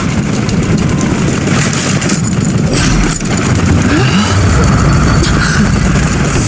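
Droning engine roar from an airplane in a Where Winds Meet cutscene as the aircraft heads over a mountain, steady and loud throughout with a dense low rumble and no clear speech.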